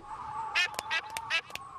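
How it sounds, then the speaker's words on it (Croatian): Cartoon ducks from Peppa Pig quack several times in short, bright bursts close together, without talking over them. "Ko ovde zna da kvače? Ja odlično kvačem."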